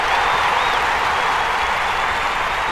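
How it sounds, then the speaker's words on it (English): A stadium crowd at the London 2012 Olympic Games breaks into loud, sustained applause and cheering after the final shot put throw, a dense wall of clapping that stays strong throughout. "Crowd responding to that."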